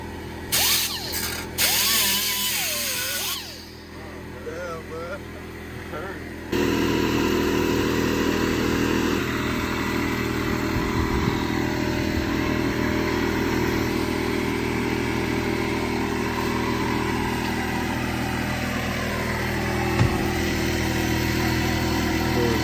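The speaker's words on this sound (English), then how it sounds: "my tires rub against this little tab right here, and so I'm gonna shave it down" A plastic tab in the wheel well of a G37 is shaved down, producing a steady mechanical whir that runs continuously after a few seconds of quieter handling noises, close and fairly loud.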